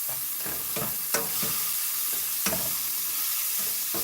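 Minced garlic sizzles and fries in a hot pan, a loud, close, continuous crackle with brief stirring scrapes and no one speaking.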